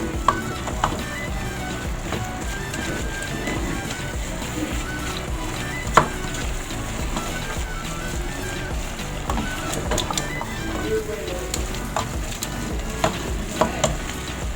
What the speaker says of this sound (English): Then we are going to mix.